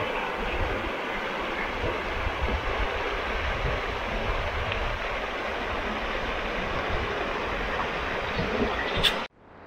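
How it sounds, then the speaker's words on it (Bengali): Clear river water rushing steadily over a stony bed at Shergaon, Arunachal Pradesh, a dense, continuous broadband roar held close and loud, cutting off abruptly at the end. "নদীর জলটা একবার দেখুন, আর আওয়াজটা শুনুন, পুরো ক্রিস্টাল ক্লিয়ার"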